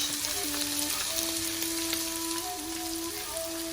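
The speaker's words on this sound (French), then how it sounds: "J'ajoute maintenant mes nouilles udon et je les sépare bien avec les baguettes pour les faire revenir avec les légumes" Udon noodles stir-frying with vegetables in a hot pan, making a steady, loud sizzle throughout with faint stirring and a thin tonal whine running over it, close up and with no talking.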